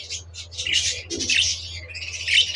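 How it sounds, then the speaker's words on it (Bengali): Caged budgerigars chirp in quick, bright bursts close by, with short pauses between calls over a low steady hum. "বাজরিগার পাখি।"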